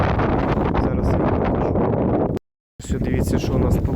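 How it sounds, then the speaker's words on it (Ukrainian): Heavy wind roars into the microphone with loud buffeting, cut by a brief silent gap before the gusting resumes. "Вітер, правда, сильний."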